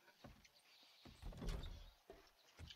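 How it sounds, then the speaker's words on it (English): Doors unlocking in the game 7 Days To Die: a few soft, quiet mechanical clunks and a swelling rattling slide, spaced over a couple of seconds. "What does this key do? Oh, I think it unlocks all the doors."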